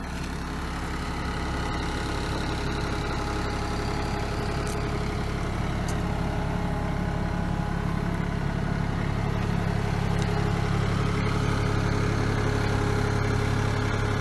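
A tractor engine runs steadily outdoors while children operate it. The low, even drone stays continuous and moderately loud with no voices.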